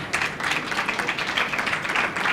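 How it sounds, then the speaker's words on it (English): Audience clapping in a steady, dense round of applause at a chef's cookery demonstration, filling the whole short stretch at even loudness. "A round of applause."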